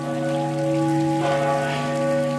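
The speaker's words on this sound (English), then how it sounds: "Listen to that bell, the cathedral." A cathedral bell rings out with a sustained, resonant tone across a city square with a fountain, while a steady wash of rain-like water noise plays beneath it.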